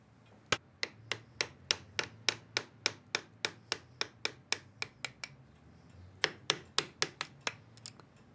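A hammer strikes a chisel to engrave a background into metal, giving crisp, evenly spaced close taps in two runs of roughly twenty and ten blows with a short pause between.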